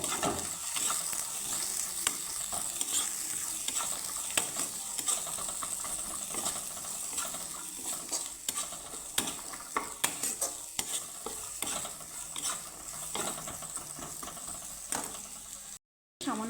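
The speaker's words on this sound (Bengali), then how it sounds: "গাজরটাকে আমি একটু নেড়ে চেড়ে ভেজে নেব" Carrot frying in a pan, stirred with a spatula, a low continuous sizzle under frequent clicking scrapes and knocks against the pan, close but fairly quiet, with a short dropout near the end.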